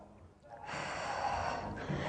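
Heavy, forceful breathing during an intense HIIT abs and glutes workout: a quiet start, then a sustained loud rush of exhaled air that holds steady for more than a second, close to the microphone.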